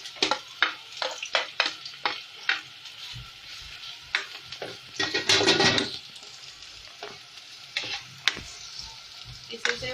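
Chopped vegetables sizzle and crackle in 1.5 spoonfuls of hot oil in a kadhai, with frequent sharp stirring clatters and a louder sputtering burst midway, close and steady with no talking.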